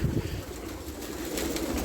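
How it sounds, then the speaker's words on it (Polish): Racing pigeons coo in a loft before being released for a 22 km training flight into headwind, low soft cooing from many birds blending into a steady close murmur with occasional wing rustle. "puścimy wszystkie gołębie"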